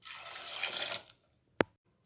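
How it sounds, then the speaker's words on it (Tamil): Water from a glass pours into a pressure cooker in a short splashing rush for about a second, then tapers off, followed by a sharp metallic clink. "ஒரு கிளாஸ் தண்ணி ஊற்றிக்கிறேன்"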